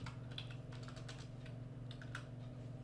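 Steady typing on a computer keyboard while writing Excel VBA code, a run of soft close keystrokes over a constant low hum, with no talking.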